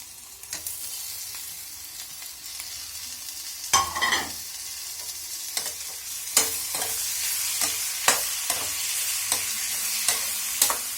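Tomatoes and curry leaves fry in a pan with a continuous soft sizzle, broken by periodic scraping stir strokes and a louder splutter early on, close and fairly quiet, no talking.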